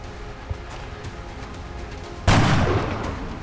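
A single sharp sniper rifle shot for a headshot in XCOM Enemy Unknown rings out loud and close, then decays briefly over quiet game ambience.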